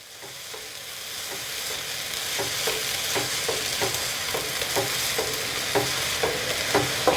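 Egg is stirred into pork fried rice in a hot pan, giving a steady sizzle under repeated scraping strokes of a spatula, close by and with no talk.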